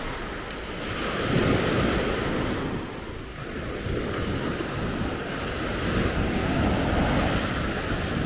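Surf washing onto an Italian beach, with waves swelling and receding in slow surges under steady wind buffeting the microphone; no voices, just continuous sea roar.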